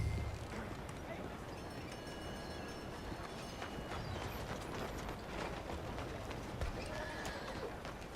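Horse hooves clip-clop steadily with a whinny in Red Dead Redemption II, mixed with mechanical clicking and ratcheting, under a busy background of talk and game noise.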